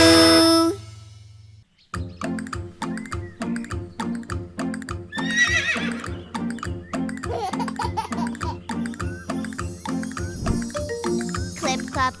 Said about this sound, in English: Clip clop, clip clop, clip clop, clip clop. Up now, little horsey.